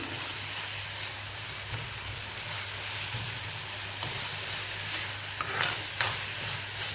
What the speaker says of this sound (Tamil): தக்காளி வெங்காயம்லாம் ஓரளவுக்கு நல்லா வதங்கி வந்துடுது